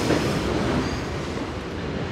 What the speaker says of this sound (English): This is the D train we're gonna be now walking underneath.